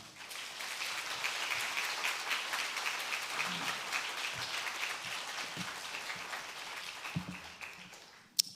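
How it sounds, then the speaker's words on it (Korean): A church congregation claps to welcome the pastor at an autumn revival meeting, a steady, moderately quiet wash of applause lasting the whole stretch with a few nearer claps and a sharp final clap. "우리 박수로 우리 목사님을 모시도록 하겠습니다"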